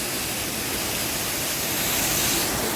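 A waterfall in Portland, Jamaica pours in a loud, unbroken hiss of rushing water, close and steady with nothing else audible.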